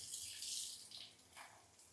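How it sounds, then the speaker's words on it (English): A motorcycle performance air filter from a Royal Enfield 650 is rinsed under a running tap, a faint, close hiss and splash of water that swells and eases as it is moved, with no talking. "just take your air filter and show it under running water"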